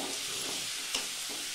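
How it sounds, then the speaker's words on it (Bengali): Chicken with salt and turmeric fries in a pan, a dense, even sizzle heard up close for a brief moment, broken by a single soft stirring knock. "এটাকে নুন হলুদ দিয়ে ভালো করে ফ্রাই করতে হবে।"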